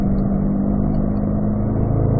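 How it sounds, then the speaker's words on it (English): A car in fourth gear rolling into turn 1 on a race track, its engine a steady loud drone close by, holding a constant pitch without pauses. "I'm in 4th gear as we roll into turn 1."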